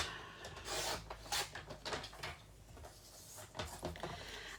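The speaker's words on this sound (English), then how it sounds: "I'm going to trim 2 centimetres off it" A paper trimmer slicing cardstock for a birthday card: several quiet, close rasping strokes and rubs of the blade sliding across the sheet, with brief pauses between passes.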